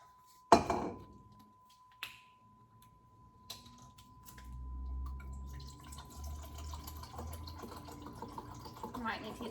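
Bottled water from the fridge is poured into a measuring cup. A few sharp clicks and taps come first, then a soft, steady pour runs for several seconds.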